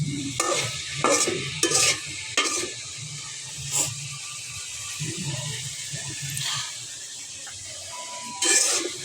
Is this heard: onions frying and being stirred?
yes